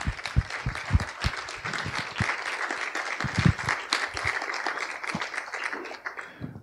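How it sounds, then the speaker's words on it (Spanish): Small audience clapping after an exhibition talk, distinct uneven hand claps with close individual slaps, fairly brief and modest in volume, thinning out near the end. "No sé si te llega el sonido del aplauso, espero que sí."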